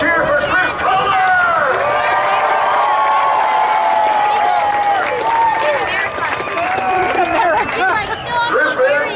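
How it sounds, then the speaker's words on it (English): A stadium crowd at a monster truck racing event at Colorado National Speedway roars and cheers for driver Chris Kohler, a loud continuous swell of voices, whoops and clapping with an announcer's voice riding over the top. "how about a big cheer for Chris Kohler?"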